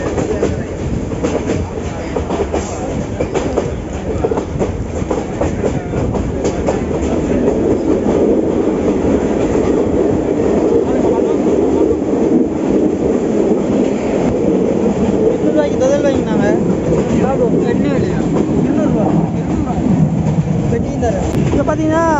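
Passenger train running on rails in Sri Lanka, heading from Anuradhapura toward Jaffna, a steady loud rumble of wheels and carriage noise continuing throughout with faint clattering.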